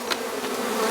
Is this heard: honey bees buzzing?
yes